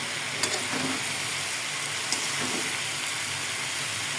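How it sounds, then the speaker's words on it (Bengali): Papaya is fried in a pan for a simple home lunch, a constant broad hiss of frying with a few faint clinks and stirring sounds through it. "আজকে সিম্পলের মধ্যে কি রান্না করতেছি, এটা পেঁপে ভাজি করে নিচ্ছি"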